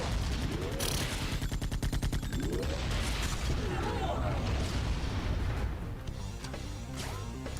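Repeated gunfire from a weapon in the action game Iji, a rapid burst of loud shots and booms with metallic bangs, close and dense for most of the stretch before easing off near the end.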